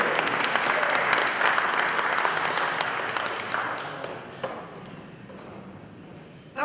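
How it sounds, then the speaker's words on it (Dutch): An audience applauds warmly to welcome the mayor of Doesburg at a golden anniversary celebration, a dense, sustained clapping from many hands that gradually thins and fades. "Geef haar een warm applaus, een hartelijk applaus."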